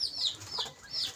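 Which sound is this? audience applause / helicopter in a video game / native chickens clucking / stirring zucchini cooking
native chickens clucking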